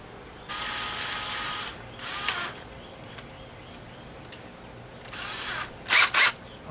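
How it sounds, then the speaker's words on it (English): A power drill bores a small hole in a greenhouse pipe, running in a couple of steady whirring bursts with pauses, then two short sharp spurts at the end. It is close and moderately loud, with no talk. "Now I have to drill a little hole in the pipe"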